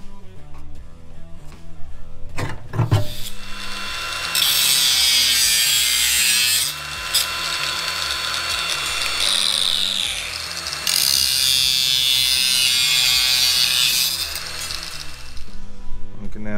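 A power tool cuts into the steel lower rear quarter panel of a Toyota Celica TA22 during rust repair, loud harsh grinding bursts that start and stop in several long runs, with brief knocks and handling noises between them.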